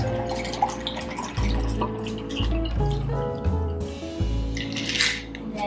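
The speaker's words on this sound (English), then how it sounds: "I'm going to take the top off here and pour the liquid inside." Iced tea poured from a cocktail shaker into a glass, a gurgling, dripping liquid stream with soft clinks, close and moderately loud, pausing briefly between pours.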